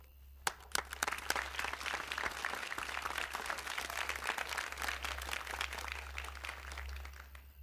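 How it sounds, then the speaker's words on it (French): Audience applause in a film, a crowd clapping with dense, irregular claps that swell after a few sharp opening hits, moderately distant over a steady low hum. "Moi, on m'applaudit."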